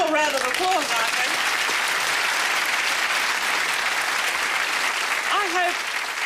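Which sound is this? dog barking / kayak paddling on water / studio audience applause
studio audience applause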